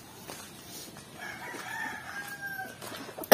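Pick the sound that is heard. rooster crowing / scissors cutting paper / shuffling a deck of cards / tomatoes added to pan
rooster crowing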